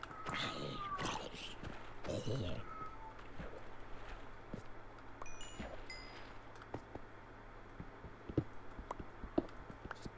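Minecraft cat meows from the blocky game world, a couple of short rising cries near the start, heard over a low steady game ambience with scattered clicks.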